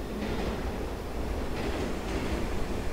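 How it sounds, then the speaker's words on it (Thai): An underground train arriving in the video game ICEY, a loud, continuous rumble of rolling rail cars with faint clacking and metallic wheel noise, close and sustained throughout. "ไอซี่ออกมาจากทางรถไฟใต้ดิน"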